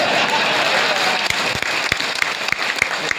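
A crowd applauding at a Tamil public talk, continuous clapping with a few sharp, louder individual claps standing out near the end.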